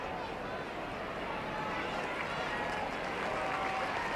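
Steady crowd applause and cheering from a large rugby league stadium audience in 1975, continuous and moderately distant, with a broad noisy wash throughout.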